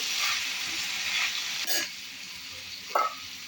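Mixed vegetables for bhogi bhaji, cooked without onion or garlic, fry in oil with turmeric and chili powder while being stirred: a steady close sizzle broken by a couple of louder scraping stir strokes.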